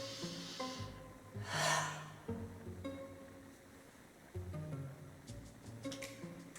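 A single slow, deep breath rises and falls during a meditation, set against soft sustained music tones.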